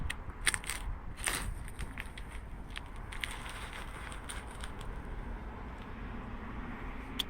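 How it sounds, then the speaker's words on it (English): Hardened, rubberized sealant is peeled up from a car roof during a leak repair, giving faint crackling and crunching tears with a few sharper snaps early on over a low background hiss. "Now let's peel up the back as well."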